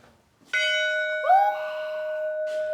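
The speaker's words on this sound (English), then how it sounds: "He never wants to ring church bells, but now I'm glad you could do that for us." A heavy, solid brass church bell in Dullstroom is struck once and rings out loud and clear, its long humming tone sustained, with a second softer strike near the end.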